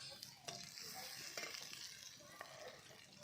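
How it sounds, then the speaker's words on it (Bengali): Small onions frying in oil with dried red chilli, a faint steady sizzle with a few soft stirring knocks. "সেই ছোট সাইজের পেঁয়াজটা দিয়ে ভালো করে ভেজে নিতে হবে।"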